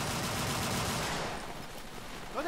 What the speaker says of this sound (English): Good shot, Davis. Now you have your first confirmed kill.